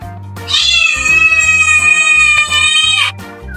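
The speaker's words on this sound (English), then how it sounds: "That one meow says it all." A kitten gives one long, loud, high meow lasting a few seconds, close to the microphone, with no talking over it.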